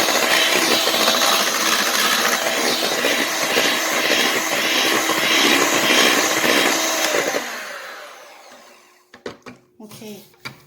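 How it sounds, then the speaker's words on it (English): An electric hand mixer whirs loudly and steadily through zebra cake batter for about seven seconds, then winds down and stops, followed by a few light clinks and knocks. "I'm going to use my mixer again."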